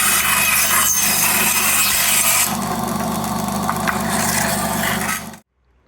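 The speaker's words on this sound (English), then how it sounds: "One of the things about the bandsaw is that obviously when it cuts through the plastic" Bandsaw cutting through pieces of plastic, a loud, continuous rasping buzz with a steady motor hum that eases partway through and then stops abruptly near the end.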